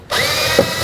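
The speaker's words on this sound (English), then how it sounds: "Now it's going to be time to put in our mounting screws." A cordless power drill driving a mirror mounting screw into a 2002-08 Dodge RAM 1500, a brief, close, steady motor whine that starts abruptly and holds for under a second.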